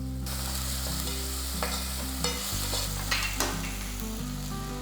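Ginger garlic paste sizzles and fries in a pan for an egg gravy, a steady close hiss with a few soft clicks of stirring, no talking over it.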